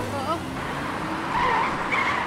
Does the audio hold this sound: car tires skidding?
yes